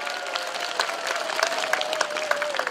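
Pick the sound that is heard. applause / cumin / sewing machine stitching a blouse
applause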